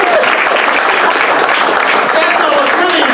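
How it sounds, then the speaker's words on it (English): Crowd at an improv comedy show gives a round of applause, a loud, thick, continuous clatter of many hands that holds steady throughout. "Give her a round of applause, Courtney."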